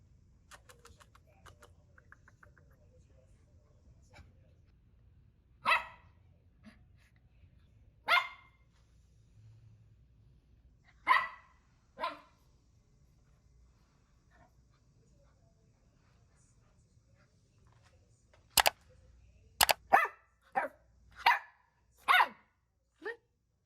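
A new little puppy named Snowy barks in sharp, separate yaps, starting slowly and then coming in a quicker cluster toward the end, nearby in a quiet room.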